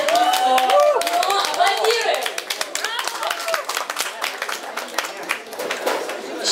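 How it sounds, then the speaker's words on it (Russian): Party audience at a twins-themed celebration in a squat cafe claps steadily and close, the dense applause mixing with voices and lively chatter throughout. "аплодируем!"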